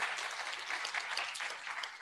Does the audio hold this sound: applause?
yes